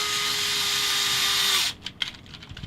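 A Dewalt power drill fitted with Traxxas tips drives a screw into a Traxxas TRX-4 model truck, a steady high whine that cuts off abruptly and is followed by a few light clicks and handling noises.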